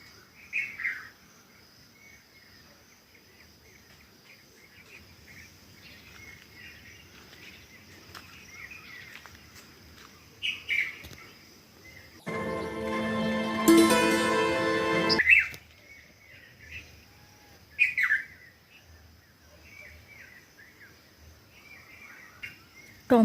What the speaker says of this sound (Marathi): साळुंकी साळुंकीचा अजून चिमणीचा आवाज येतो